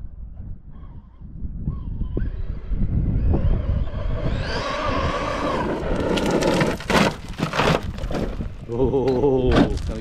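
An 8S electric HPI Baja RC car at full throttle spins its tires, its motor whine surging and climbing into a loud, rough, sustained roar with gritty scrabbling bursts.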